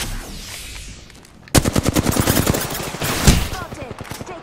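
Rapid automatic gunfire in an Apex Legends firefight, a loud burst of evenly spaced shots that starts abruptly and keeps going, with a heavier blast near the end, close and dominant over the game's background noise.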